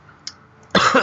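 One sharp, loud cough bursts out close to the microphone after a short quiet stretch, with a faint click just before it.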